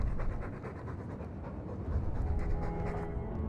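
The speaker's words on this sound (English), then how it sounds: "All that noisy dog breath, day in, day out." A dog pants in the fantasy role-playing game Dragon Age 2, a steady rapid breathing rhythm continuing for several seconds over a rumbling ambient game background.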